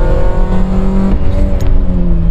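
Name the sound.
Opel Corsa car engine while driving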